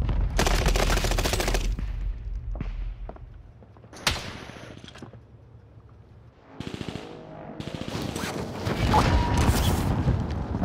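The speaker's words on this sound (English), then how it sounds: "Keep shooting, Park, keep shooting." Gunfire in Call of Duty: Modern Warfare, with rapid automatic bursts, scattered single shots and a thud, loud and near, heavy at the start and again toward the end.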